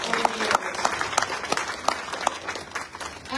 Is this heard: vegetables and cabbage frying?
no